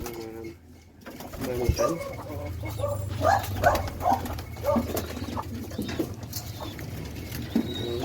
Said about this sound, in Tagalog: Yung kalapati.